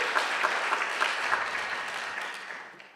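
A conference crowd at a tech week kick-off claps for several seconds, a lively spread of many hands that gradually thins and fades out toward the end, with no talking.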